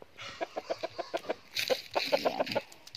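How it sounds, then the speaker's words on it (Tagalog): A large, heavy gamecock rooster, kept for cockfighting, clucks close by in a rapid series of short rhythmic calls, breaking into a louder, busier burst of clucking near the end. "manok daw ito ng Muslim"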